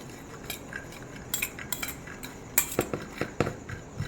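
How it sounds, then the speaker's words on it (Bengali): A spoon stirring a healthy snack mix of tomato, cucumber and green chilli with lemon juice, giving a run of close, light clinks and scrapes against the bowl that grow busier toward the end. "তোমার লেবুর সামান্য একটু রস দিয়ে এটাকে নেড়ে দিলাম"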